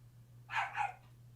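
A pet dog indoors gives two quick close barks in succession over a steady low electrical hum.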